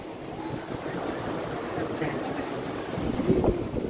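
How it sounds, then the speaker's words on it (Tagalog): Strong wind buffets the microphone at the high Tagaytay view deck, a continuous low rumbling roar that swells louder near the end, with a voice briefly heard. "Ang hangin dito."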